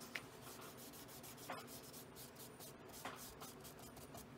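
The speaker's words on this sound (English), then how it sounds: "And then I'll go ahead and rub those out so we can see" Soft, steady rubbing on thin bible pages, an eraser-like scrub over pen ink marks, with a few brief sharper scuffs; close, quiet and continuous with no talking.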